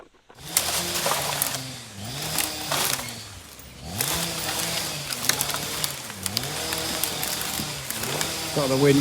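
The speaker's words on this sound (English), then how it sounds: "Got the winch set to a faster speed, quite considerably faster." An Eder 1800 portable winch runs at a faster speed hauling a log, its engine whining in repeated rising and falling pitch sweeps, loud and close, with a brief pause near the start.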